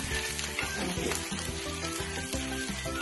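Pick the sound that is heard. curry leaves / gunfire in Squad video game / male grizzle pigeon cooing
curry leaves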